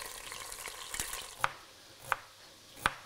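Pukeko thighs browning a few at a time in a hot pan, a faint steady sizzle with three sharp spits or taps at even intervals over the frying.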